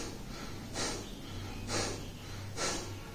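A person demonstrates fast, shallow, stressed breathing, three quick, breathy huffs spaced about a second apart, close and fairly soft over a low background hum.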